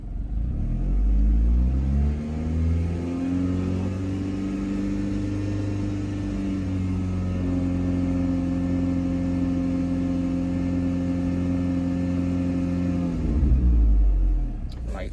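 A car engine is held at raised revs of 2500 to 3000 RPM during a battery test, a steady, loud droning hum that climbs at first, holds evenly for about eleven seconds, then drops back near the end.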